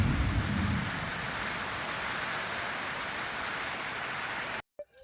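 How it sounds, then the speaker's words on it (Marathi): Dense, heavy unseasonal rain with lightning roars without pause, opening with a deep rumble of thunder, then cuts off abruptly at the end. "पाऊस चालू आहे एकदम जबरदस्त हे बघा विजा वगैरे कसं कडकडत आहेत बघा"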